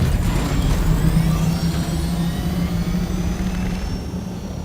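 A helicopter in the game Dune Awakening gives a loud, steady engine drone with a low tonal hum and rising whine overtones, fading slightly toward the end, with no talking.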